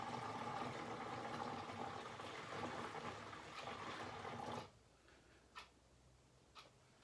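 Water pours into a Thetford toilet cassette as a steady, gurgling trickle that runs continuously for several seconds, then stops abruptly, leaving a couple of faint clicks and knocks in a quiet room.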